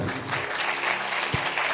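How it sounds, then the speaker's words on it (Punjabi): A church congregation claps loudly and continuously during a sermon, a dense, even burst of applause with one low thump near the end. "ਤਾਲੀ ਮਾਰੀਏ ਜ਼ੋਰ ਦੀ"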